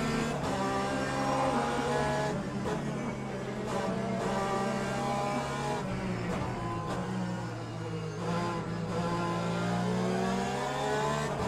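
A pair of LMP2 prototype race cars run in Le Mans Ultimate, their engines droning steadily and loudly with shifting pitch throughout. No voices are heard over the mechanical roar.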